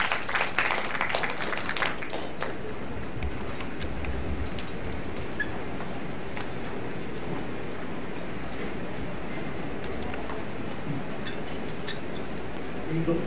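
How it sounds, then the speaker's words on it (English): Sustained applause from a seminar-workshop audience fills the whole stretch, steady dense clapping with a few brighter clinks, no voices standing out. "Let's give a warm applause to Dr. Dennis Policar."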